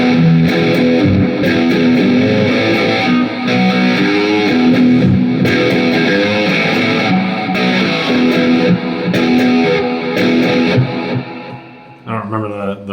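Steinberger Spirit GT Pro Deluxe headless six-string electric guitar played through heavy reverb and effects, a dense, continuous distorted passage of chords and melody that rings steadily throughout before trailing off near the end.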